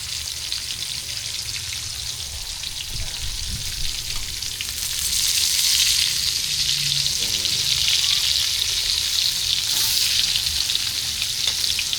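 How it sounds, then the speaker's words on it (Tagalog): Steady, crackling sizzle of an omelette frying in a hot pan, continuous throughout and swelling slightly louder midway, with a soft low hum beneath. "prito tayo torta"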